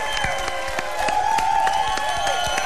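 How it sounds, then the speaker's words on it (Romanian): A wedding-themed Romanian TV show audience applauds steadily under festive music and voices, the clapping dense and continuous for a few seconds. "Aplauze, vă rog frumos"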